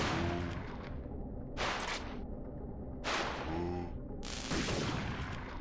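Grenade explosions and gunfire in the video game Parasite Eve 2, three loud bursts spaced about a second and a half apart, each a broad crack decaying into rumble over a steady low game backdrop.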